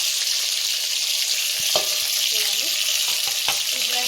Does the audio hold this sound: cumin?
yes